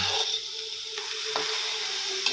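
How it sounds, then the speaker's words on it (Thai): Eggplant and minced pork stir-fried in a pan, with a steady sizzle and occasional scrape of the spatula, close and alone, no voices. "ก็ผัดไปเรื่อยๆนะครับให้มะเขือเขานิ่มนะครับ"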